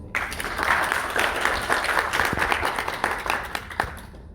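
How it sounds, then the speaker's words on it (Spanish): Audience applause at a literary event in Medellín, a burst of clapping from a modest crowd, fairly close and steady, tapering off at the end. "Un aplauso para él, por favor."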